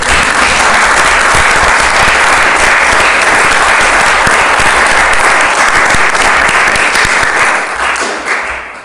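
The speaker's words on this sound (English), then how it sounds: "We applaud Joni." A town council meeting audience breaks into loud, dense applause that fills the room and holds steady for several seconds, then thins slightly toward the end.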